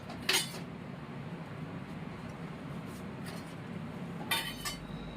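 A spoon clinks faintly against a bowl while garlic chutney is transferred for dahi tikhari, with two brief, bright clinks spaced several seconds apart over a quiet kitchen background and no speech.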